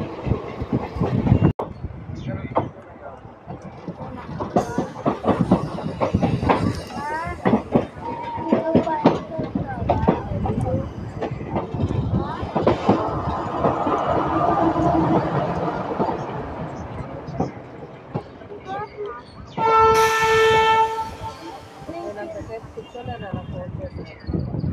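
Kakinada Port–Sainagar Shirdi Express rolling along with a steady rumble and wheel clatter, wind buffeting nearby, and a sharp tonal blast around the twenty-second mark.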